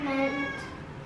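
A cat gives one clear, close meow that rises and then fades, alone and fairly loud.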